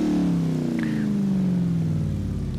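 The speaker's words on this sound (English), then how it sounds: "currently you're hearing the stock engine, so it's not the greatest" A stock AMC Gremlin engine in Forza Horizon 3 holds a steady, loud drone with a slowly falling pitch, a continuous mid-range hum without any talking.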